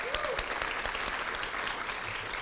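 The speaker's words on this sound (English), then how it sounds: "Have a round of applause." Steady applause from an audience at a school early college scholars celebration fills the room, dense and continuous throughout the short stretch.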